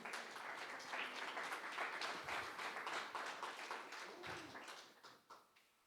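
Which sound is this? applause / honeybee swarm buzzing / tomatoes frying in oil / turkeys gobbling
applause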